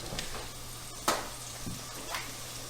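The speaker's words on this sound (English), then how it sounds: "now I'm going to stir in my flour" Flour being stirred into melted butter and sausage drippings in a pan gives a soft, low sizzle with a few scraping clicks of the spoon, quiet and close.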